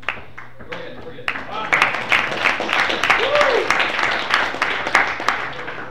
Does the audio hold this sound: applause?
yes